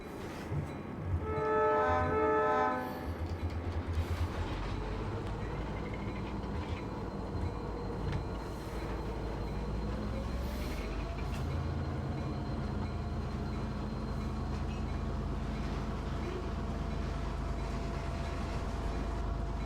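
A Milwaukee Road train shunting railroad cars in Avery in a train video game opens with a short horn blast, then settles into a steady low rumble of rolling wagons with faint squeals.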